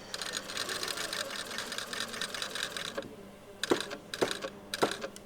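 A sewing machine stitches a shirt sleeve placket in a steady fast whir, pausing briefly and then restarting in short bursts as the fabric is pivoted, close and clear with no talk.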